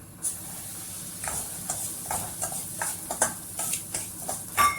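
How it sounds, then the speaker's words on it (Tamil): Semolina roasting in ghee in a pan for rava kesari, a soft scraping stir with light sizzle, irregular strokes repeating every half second or so, fairly quiet and close. "இப்போ இந்த நெய்யில் எடுத்து வச்சிருக்க ரவையை போட்டு வறுத்துக்கலாம்"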